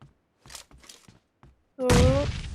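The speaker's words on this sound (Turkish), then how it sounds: "Bomba atacağım o adama." A grenade blast in the PUBG Mobile winter-front mode, heard as one loud, sudden explosion near the end that rings out and slowly decays, after a few quiet taps and footsteps.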